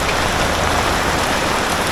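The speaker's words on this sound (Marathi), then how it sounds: "पाऊस पण पडायला लागला खूप पाऊस पडतो आहे" Heavy monsoon rain pours steadily in a Konkan village, a dense, loud, continuous hiss of drops hitting surfaces with no pause.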